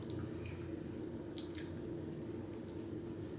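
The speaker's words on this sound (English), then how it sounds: "So we're gonna put it in the cup." Soy sauce and chili sauce poured into a cup, soft wet drips and squishy liquid splashes over a low steady hum, faint and close, with a few brief spatters.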